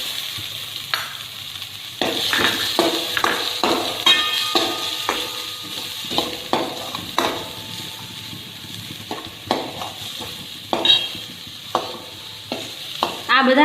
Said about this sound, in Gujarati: આ બધાને થોડીવાર માટે આપણે હલાવીશું। ડુંગળી છે તે વધારે પડતી બ્રાઉન થવા દેવાની નથી।